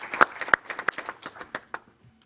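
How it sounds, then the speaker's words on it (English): A short burst of applause at a school board meeting, scattered hand claps that peak quickly and then thin out to a few last claps before fading to quiet. "let's give them a round of applause for their exemplary performance"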